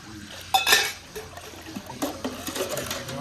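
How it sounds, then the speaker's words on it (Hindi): Water pours into a vessel to make sharbat for an iftar meal in a village kitchen, a short splashing burst followed by uneven trickling and gurgling, close and moderately loud. "पानी और भी डालो, ये कम है।"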